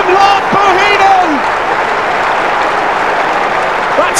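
A stadium crowd at a 1994/95 Tottenham Hotspur football match applauds a goal, loud broad clapping and roar throughout, with a commentator talking over the start.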